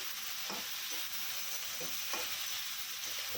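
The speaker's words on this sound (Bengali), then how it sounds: "পরিমাণ মতো একটু হলুদ দিয়ে দেবো এখন আর এটা ভালোভাবে নাড়িয়ে নিয়ে কষিয়ে নেবো" Turmeric and vegetables for Bengali shukto are stirred in a hot pan, giving a steady, even sizzle with soft scraping strokes from the spoon every second or so.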